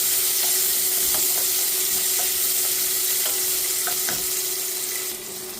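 Chopped onion, garlic and green chilli sauté in an oil-filled pan with a steady, close hiss of frying, broken by a few soft spatula scrapes and taps as the mixture is moved about.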